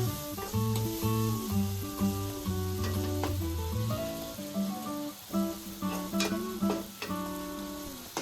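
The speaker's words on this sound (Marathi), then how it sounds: "टोमॅटो पूर्ण शिजून मऊ होईल आणि विरघळेपर्यंत आपल्याला तो परतवून घ्यायचा आहे." Tomato and onion sauté in an oiled pan for a Malvani-style crab curry, giving a steady soft sizzle with occasional stirring scrapes, mostly buried under prominent background music throughout.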